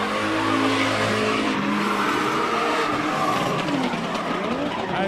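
A drift car with no exhaust screams past at a state-series drifting event, its raw engine roaring loudly with tire squeal throughout.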